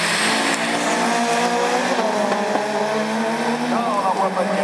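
Division 4 rallycross cars launching from the start at Lessay, a loud, dense roar of several engines revving hard, with rising pitch sweeps and tyre noise, heard close and continuous while a commentator talks over it.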